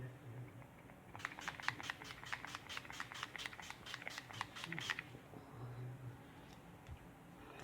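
Face primer misted from a spray bottle: a rapid run of about a dozen short, soft spritzes close by, then quiet room tone.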